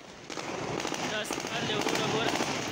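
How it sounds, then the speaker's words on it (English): Dense crackling bursts of distant celebratory gunfire at an airport in Afghanistan pop continuously like firecrackers, overlapping with a voice talking over the noise. "That prompted celebratory gunfire at the airport to mark the ending of this bitter 20-year war."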